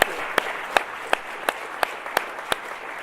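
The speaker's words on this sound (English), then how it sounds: "Can we just give them a big round of applause?" Audience applause honoring public servants at an evening event, a steady bed of clapping with sharp individual claps standing out at regular intervals, moderately loud and without talk.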